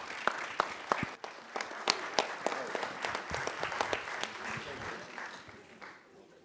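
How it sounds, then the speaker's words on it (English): Audience applause at an employee service awards presentation for a Department of Transportation worker honored for 30 years, a steady wash of many hands with sharp individual claps standing out, fairly close and tapering slightly near the end. "Let's get a round of applause for Mr. Freeman."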